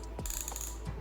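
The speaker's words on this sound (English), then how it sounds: "I'm going to machine on the edge, and then what I want, I fold it again and hemming" A sewing machine stitches along a trouser hem in one short, close, quiet burst of ratcheting mechanical clatter.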